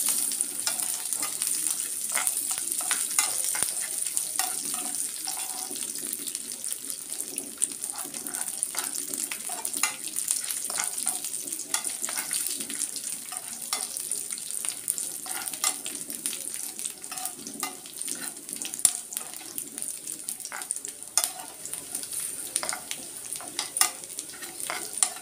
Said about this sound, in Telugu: కిస్మిస్ కూడా వేసి వేయించుకోవాలి.